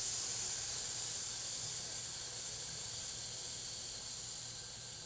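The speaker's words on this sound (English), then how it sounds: "Slowly controlling the breath and making an S sound as you breathe out." A slow, controlled exhale forms a steady, soft hissing S sound, even and continuous throughout, close and alone without other noise.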